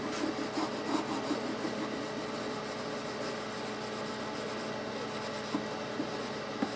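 A fret eraser rubbing grit off the frets of an Ibanez Prestige 7-string guitar, a steady soft scratchy rasp that continues throughout at low level, close up, with no talking.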